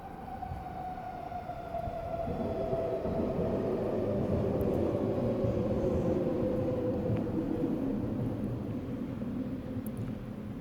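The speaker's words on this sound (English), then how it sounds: "Oh, here comes a train, better wait." A train rumbles past close by, a loud steady roar with a fading horn-like tone, lasting throughout.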